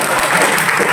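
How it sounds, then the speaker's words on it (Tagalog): A congregation claps loudly in a chapel at Alegria, Santa Monica, on Siargao Island during an open-forum church gathering; dense, steady applause fills the whole short moment. "palakpakan natong Ginoo, palakpak po"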